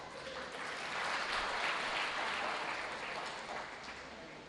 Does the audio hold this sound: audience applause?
yes